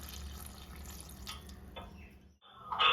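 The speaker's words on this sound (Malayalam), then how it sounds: "ഇതിലേക്ക് വേവാൻ ആവശ്യമായ വെള്ളം ചേർത്ത് കൊടുക്കുക" Water splashes and trickles into a cooking pot of ash gourd and drumstick pieces for a Kerala-style curry, a steady pouring wash that stops briefly, then a louder burst of running water.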